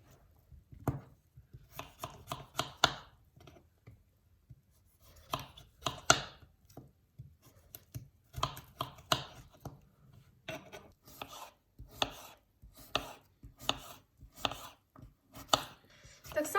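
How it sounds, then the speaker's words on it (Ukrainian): A kitchen knife chops cucumber into small cubes, giving close, crisp rhythmic runs of quick cuts separated by short pauses, with no talking. "Нарізаємо огірок так само кубиками."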